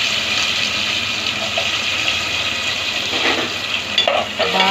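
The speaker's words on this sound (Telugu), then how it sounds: "కొంచెం బాగా వేగేటట్టు అది గోల్డెన్ కలర్లో వచ్చేలా పెట్టుకోవచ్చు" Onions fry in a pan for a Nellore-style mutton head curry, giving off a steady, close sizzle with occasional stirring scrapes and clinks toward the end.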